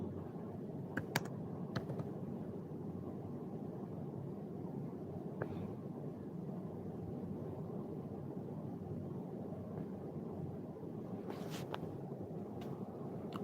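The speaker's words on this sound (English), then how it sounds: "I'm about to type it in." Faint computer keyboard typing, a few scattered light key clicks over a steady low background hum.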